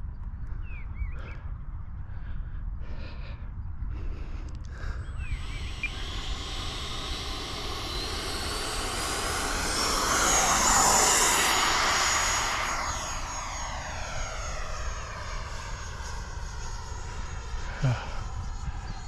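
A Freewing Avanti S model jet with an 80mm electric ducted fan runs up and passes by outdoors, its whine swelling loudly to a peak midway and then sweeping away with a falling pitch.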